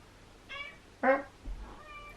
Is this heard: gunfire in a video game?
no